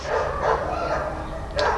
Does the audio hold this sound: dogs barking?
yes